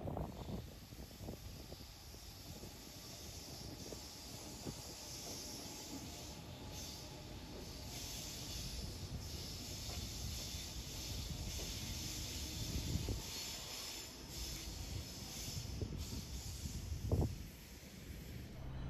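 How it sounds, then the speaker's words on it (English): A Waratah train runs on the new northbound North Shore line track at Chatswood, a steady rumbling roll with hiss and occasional wheel squeal, moderately distant and continuous with no talk. "And here is a Waratah train on the current northbound track."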